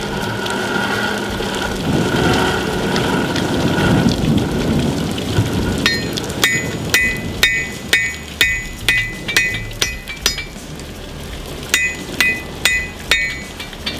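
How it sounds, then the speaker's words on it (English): Metallic hammer strikes ring out in a steady, repeated rhythm on a hot railroad spike on an anvil, each blow clanging sharply after an earlier stretch of rumbling noise. "When I hammer this time, I'm gonna turn it up and set the spine straight"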